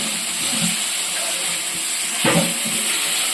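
Vegetables frying in a pan with salt and turmeric for a potato, drumstick and fish curry, giving a steady sizzling hiss with a brief louder burst of steam partway through.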